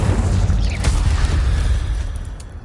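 An Incendio fire spell is cast in Hogwarts Legacy, giving a loud, low whooshing boom with a sharp crackling burst, followed by a rumbling, roaring tail and no talking.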